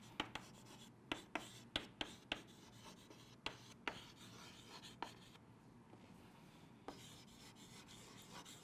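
Chalk or marker strokes on a board during a physics lecture on the Van de Graaff generator, a series of sharp scratchy taps and rubs in short bursts, close and fairly quiet, with no talking.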